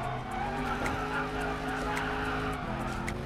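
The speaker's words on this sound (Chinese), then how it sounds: "然后到了漂移点时，轻点方向键加手刹，使用小幅度的漂移去入弯" An Audi RS7 drifts with the handbrake in a racing video game, a steady engine drone under a sustained tire squeal at close range, continuous and loud.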